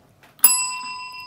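A single bright notification bell rings out clearly and decays with a sustained ringing tone.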